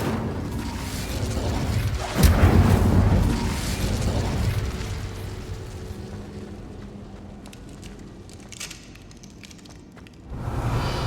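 Incendio fire spell cast in Hogwarts Legacy, a loud whooshing fiery burst that swells quickly and then rumbles and crackles as it fades, with a second surge near the end.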